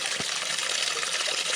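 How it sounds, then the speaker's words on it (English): Running water splashing along an icy mountain trail, a bright continuous rush close by with one soft thump near the start. "Plenty of running water."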